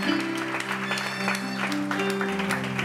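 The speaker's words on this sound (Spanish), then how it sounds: "Un aplauso para la niña Yarielis Díaz de Jesús." Applause breaks out at a wedding ceremony, a steady broadband clapping that runs the whole time over sustained tonal sounds, fairly loud and close.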